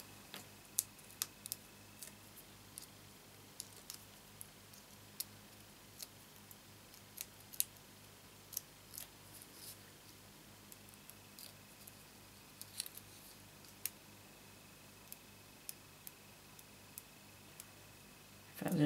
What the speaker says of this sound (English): it was really fiddly trying to cut dimensionals to get onto these little bits right here